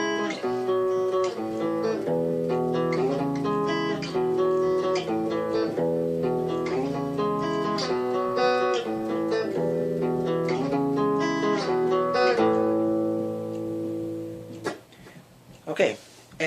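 An electric guitar plays the intro of a song at a slowed tempo, with clear strummed and picked chord changes throughout that stop near the end, followed by a couple of brief handling noises.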